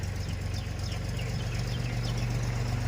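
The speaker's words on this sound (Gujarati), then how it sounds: "આ ટ્રેક્ટર નદીમાંથી આવે છે" A tractor coming up from a river in a rural village during rainy weather gives off a steady, low, throbbing engine drone that stays at an even loudness throughout.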